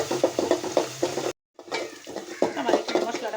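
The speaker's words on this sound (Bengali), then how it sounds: "পেঁয়াজটা আমি বেশি ভাজা ভাজা করবো না" Onion fries with turmeric and salt in a pan for a lentil dish, a soft sizzle under rhythmic scraping and stirring of a spatula against the pan, broken by a brief silent gap.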